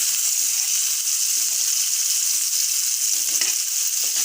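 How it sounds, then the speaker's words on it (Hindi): Chaap pieces frying in oil in a pan for a chaap pizza, a loud, steady crackling sizzle with small pops, close up and continuous with no talking. "ये देखिए माशाल्लाह बहुत अच्छे से फ्राई हो रहे हैं।"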